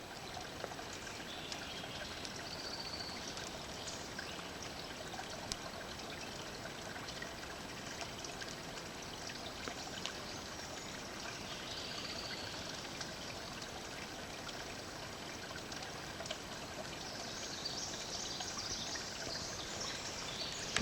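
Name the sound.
stream water flowing outdoors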